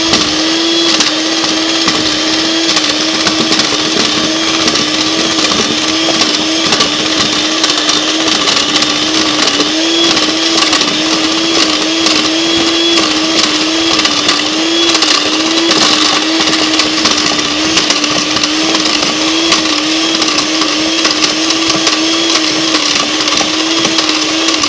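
An electric mixer whirs steadily, blending sifted cocoa and sugar into cupcake batter with a loud, continuous motor drone and rattling texture throughout, with no talk.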